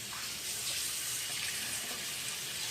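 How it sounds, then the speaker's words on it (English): Warm water runs steadily from a kitchen tap over raw chicken being brined, a constant soft hiss with no talking. "You hear the water running."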